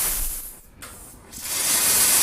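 A steam spotting gun sprays onto red silk in a close, breathy hiss that fades briefly in the middle and then swells back to a steady, strong spray.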